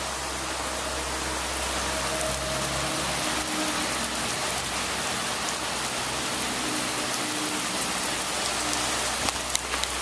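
Heavy rain pours down outside in a constant, dense hiss, with a low steady hum underneath and no voices.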